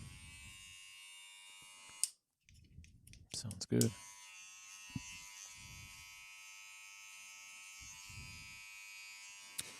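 Wahl electric hair clippers, freshly oiled, buzz steadily, briefly cut off and restarted with a few clicks, while a voice speaks quietly over the running hum.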